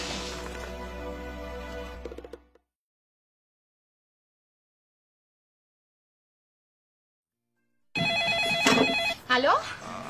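A telephone rings in a Colombian television soap opera, an electronic bell tone at the start that cuts to silence, then voices and clattering sounds resume.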